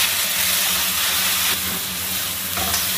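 Tomatoes stir-frying in hot oil with garlic in a wok, giving a loud, continuous sizzling hiss that stays close and steady throughout.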